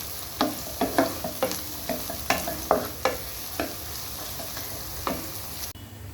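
Garam masala is fried with onion and garlic for a spicy mutton curry. A spatula scrapes and knocks against the pan in a quick, irregular rhythm over a steady background sizzle.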